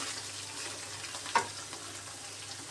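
Cumin paste fries in a pan for a hilsa fish curry, a steady soft sizzle with one brief scrape of a spatula near the middle, close and fairly quiet, no speech.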